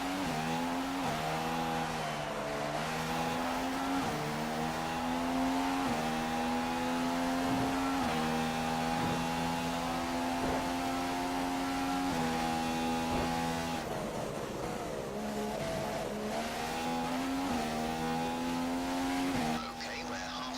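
McLaren Honda Formula One car from F1 2015, racing at the Australian round: a steady high-pitched engine whine holds close and continuous, with shifts and brief dips in pitch as it brakes and accelerates, running throughout.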